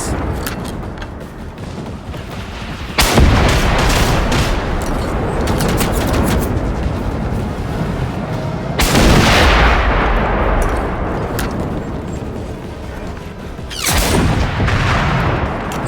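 Heavy gunfire in the Generation Zero video game, loud sustained bursts and booming shots filling the whole stretch, with sharp new volleys breaking in twice along the way.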